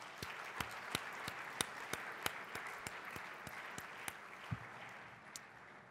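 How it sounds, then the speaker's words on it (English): At a Monday morning business plenary session, an audience applauds the mayor with steady, fairly soft clapping heard from a distance, while individual sharper claps stand out at irregular moments across the crowd. "Can we give her a round of applause?"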